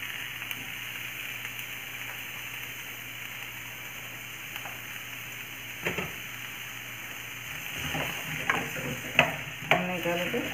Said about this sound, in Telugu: మీడియం ఫ్లేమ్ మీద వేయించుకోవాలి